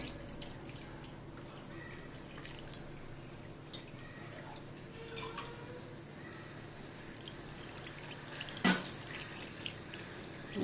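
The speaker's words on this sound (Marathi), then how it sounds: "त्याच्यावरती साधं पाणी टाकून ते स्वच्छ धुवून घेऊया" Water runs quietly from a tap and trickles over fresh homemade paneer being rinsed, with occasional soft drips and one brief clatter.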